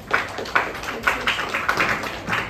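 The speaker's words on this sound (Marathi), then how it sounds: "विद्यार्थी मित्रांनो एकदा जोरदार टाळ्या होऊ द्या." Students at a school event clap in loud, uneven bursts, sharp hand claps rising and falling in quick rhythm, close by with no speech over them.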